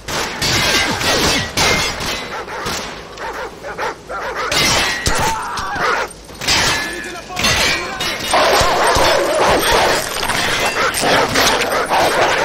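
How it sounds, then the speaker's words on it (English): Dog barking in Call of Duty 4 amid loud crashing and shattering combat noise. The barks come in repeated bursts mixed with dense chaotic impacts over the whole stretch. "Dog's in the tall grass!"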